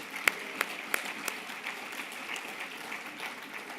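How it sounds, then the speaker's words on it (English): Faint, distant audience applause at a CXC ministerial forum opening ceremony for the government of Jamaica, with a few crisp individual claps at first, then a soft thinning patter. "please join me in a warm round of applause for the government of Jamaica"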